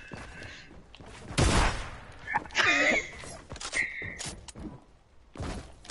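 Several sharp shotgun blasts in a video game, loud bursts scattered irregularly among quieter clicks and game effects.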